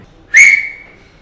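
A single sharp, loud whistle rises abruptly, holds a bright high tone for a moment, then tails off quickly in an otherwise quiet space, with no voices around it.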